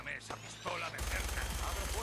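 Gunfire in the video game Fallout 4 erupts as a sudden loud burst of rapid shots, cutting in after a brief stretch of quieter game sounds.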